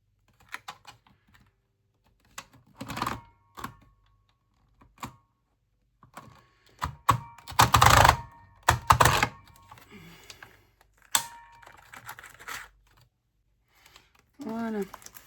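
A paper hole punch biting through thick laminated card sheets gives several sharp clacks and crunches in bursts separated by quiet stretches. A voice talks softly between them.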